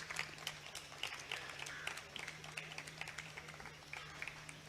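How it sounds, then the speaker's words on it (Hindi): An audience at a literary session in the Philippines—no, in India—gives warm, sustained applause welcoming a guest to the stage, a steady patter of many hands heard from a distance at low level. "मोहतरमा डॉक्टर सुमिता मिश्रा साहिबा को, वो स्टेज पर आएँ और ज़ोरदार तालियों से उनका खैर मकदम किया जाए"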